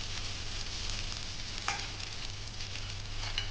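A sabudana-potato thalipith sizzles on a hot tava griddle, giving a constant, soft, crackling hiss with small pops throughout.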